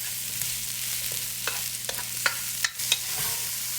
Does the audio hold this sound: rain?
no